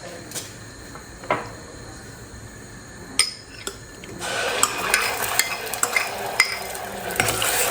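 Spices for tempering hit hot oil in a pan with a few sharp clinks and taps first, then a sustained crackling sizzle that stays bright and steady, close by and with no voices.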